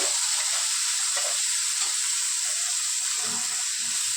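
A paste of ginger, garlic, chili and onion sizzles and hisses steadily in a hot pan for a chicken and cauliflower curry. The frying is close and continuous, with small stirring bumps underneath.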